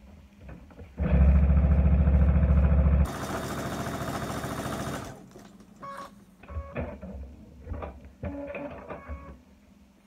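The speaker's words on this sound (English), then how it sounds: "So let's go and sew the light piece on." A sewing machine stitches a light piece of jelly roll quilt fabric in a loud steady run of about two seconds, followed by a brief burst of faster whirring and then quieter handling clicks.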